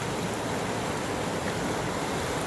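Wild Amazon river rushing continuously, a dense, even roar of turbulent water filling the whole span with no pauses or voices.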